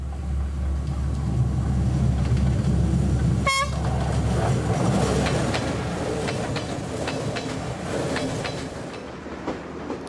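A passenger train rolls through the mountains of Sri Lanka with a steady low rumble and rattling wheels, a brief horn toot sounding near the start.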